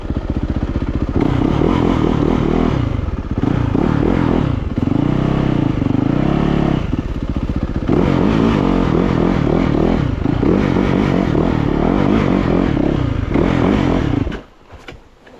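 A Yamaha YZ450FX dirt bike engine revs hard on a trail ride, loud and close, with rising and falling throttle surges and clattering, continuous for about fourteen seconds before cutting off abruptly.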